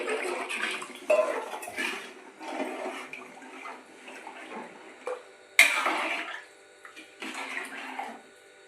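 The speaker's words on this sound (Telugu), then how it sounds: "ఇప్పుడైతే వాటర్ పోసేస్తున్నాను" Spice-mixed water pours into a pot of chicken pulao in several gushing bursts with short pauses between, close and fairly loud, with no one speaking.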